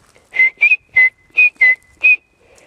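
A person whistles an imitation of a spring peeper frog call: six short, high, rising peeps in a quick uneven series, close and loud with no talking.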